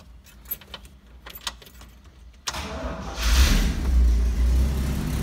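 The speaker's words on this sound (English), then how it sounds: "We'll fire it up for you real quick." A 1968 Pontiac Firebird Sprint with a numbers-matching four-barrel engine and factory dual exhaust cranks after some key jingling, then catches and rumbles into a loud, deep idle with a slight exhaust leak.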